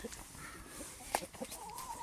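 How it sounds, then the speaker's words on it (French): Chickens on a small farm, a black rooster and blue and black speckled hens, cluck softly and sporadically at a distance, with one sharper squawk midway and faint background noise. "le coq noir, la poule bleue et la poule noire cailloutée que j'ai rajouté aujourd'hui"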